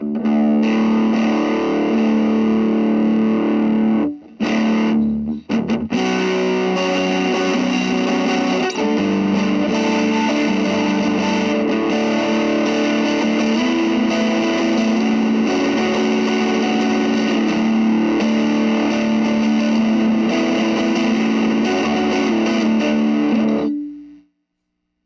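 An electric guitar runs through a Digitech Screamin' Blues overdrive pedal and gives a loud, sustained, distorted tone. Strummed chords ring almost without a break for over twenty minutes' worth of seconds, briefly cut out once, and then fade at the end.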